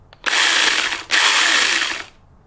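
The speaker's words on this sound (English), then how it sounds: "we'll tighten it up with the included wrench" A wrench tightens the blade nut on a SuperSaw power saw, giving two close, loud ratcheting bursts separated by a brief gap, with no talk.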